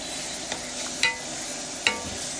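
Garlic, salt and curry powder stirred in a sizzling pan for vegetable spaghetti, a steady hiss of frying with two or three sharp scrapes of the spoon against the pan, close by.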